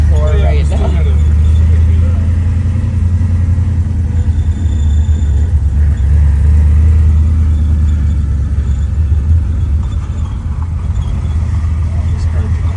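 Plymouth Road Runner with an Aces EFI fuel-injection setup idling and running, a steady loud low rumble throughout under occasional talk.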